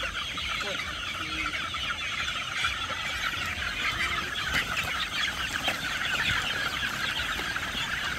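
A flock of chicks peeps continuously in a dense, high-pitched chorus, a busy layer of overlapping calls that holds steady from start to finish.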